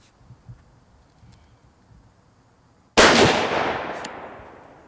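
A single sharp rifle shot from a T/C Encore during a torture test outdoors, loud and close, ringing out with a long fading echo after a few seconds of quiet rustling.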